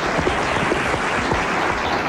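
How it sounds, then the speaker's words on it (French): A radio studio audience applauds steadily, with dense clapping that stays even for the whole short stretch. "nous l'applaudissons"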